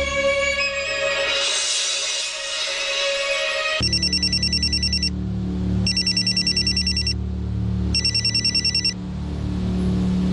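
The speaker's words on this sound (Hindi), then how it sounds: "मैं अभी तनु को फोन करता हूँ।" A phone rings in repeated electronic trilling bursts, three rings with pauses between, after a muffled moment of background noise.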